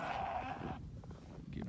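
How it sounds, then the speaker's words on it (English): Sheep bleat on a farm on a winter morning, the calls mid-distance and blended with a steady background rumble and possible faint voices. "Come on, Ranger, let's go check the sheep."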